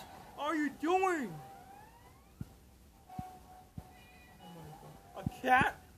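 A cat meows a few times in the SpongeBob Battle for Bikini Bottom video game, with clear drawn-out cries near the start and another near the end, while someone talks in between.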